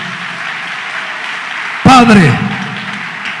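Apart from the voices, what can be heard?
congregation clapping hands in church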